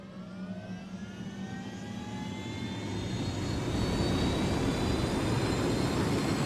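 A fixed-wing aircraft piloted by the player in Ghost Recon Wildlands roars as its jet engine spools up, the whine rising in pitch and growing steadily louder over several seconds, with no talk.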